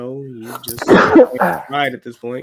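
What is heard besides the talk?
sneeze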